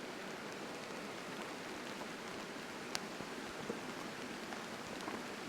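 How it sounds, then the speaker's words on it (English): Rain falling steadily on a tent at a campsite, a dense even hiss of drops with a few sharper individual taps, soft and continuous throughout. "the rain is definitely settling in for the night"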